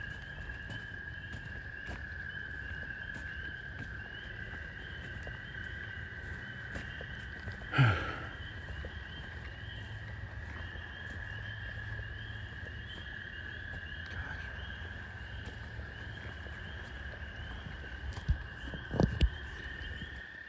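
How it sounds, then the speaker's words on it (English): Frogs call loudly from woods at night, a steady high trilling chorus running unbroken throughout, with a single brief thump partway through and a couple of faint knocks near the end. "those frogs are loud"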